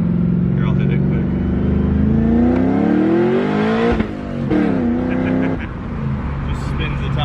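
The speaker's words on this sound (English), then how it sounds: "Just spins the tires." A pickup truck with a high-mileage engine and a transmission that won't hold power revs hard, its engine note climbing in pitch and then dropping as the tires spin, loud and close, with a voice over it.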